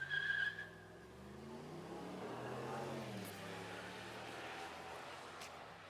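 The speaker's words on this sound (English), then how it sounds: "another youngster taking his car out for the first time ever and has to spin those tires" A car spins its tires near a high school baseball game, a wavering squeal that rises and falls over several seconds at a moderate distance.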